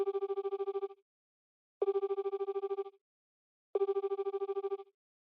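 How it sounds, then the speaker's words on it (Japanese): A phone rings in three evenly spaced bursts of rapid electronic trilling, each lasting about a second with silent gaps between, clear and alone. "三葉のスマホが鳴ります"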